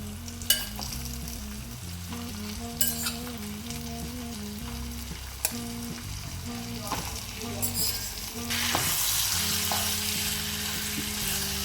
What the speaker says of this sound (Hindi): इसको यहाँ डाल दिया हमने और इसको हम अच्छे से फ्राई कर लेते हैं।